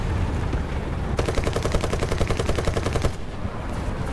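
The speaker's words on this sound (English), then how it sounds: "That's why you have the machine gun." A tank-mounted machine gun on a Chinese M3A3 in War Thunder fires one rapid, evenly spaced burst lasting about two seconds over a low engine rumble, then stops.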